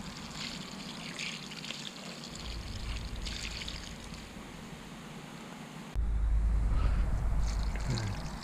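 Water being poured to rehydrate a repotted water lily pot, a steady close trickle and splash that grows louder and fuller near the end.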